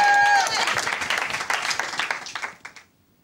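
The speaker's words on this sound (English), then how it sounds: "Round of applause for Clark!" Audience applause for a boy's poem performance, a burst of clapping with a faint voice at the start that thins out and fades to silence near the end.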